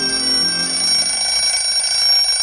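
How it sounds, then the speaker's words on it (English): An alarm clock rings in a classic radio drama's early-morning bedroom scene, a continuous bright, rattling bell that holds steady and close for several seconds on its own. "So at the sound of the alarm, the bedclothes are thrown back, the bed springs creak, the alarm is shut off"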